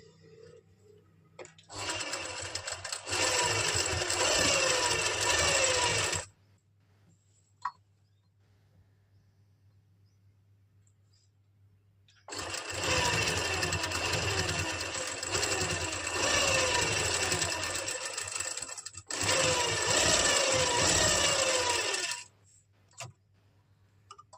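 Sewing machine stitching pleats on a kurti, running in two long steady bursts of rapid mechanical whirring with a low hum, separated by a quiet pause and then a short break before a final run.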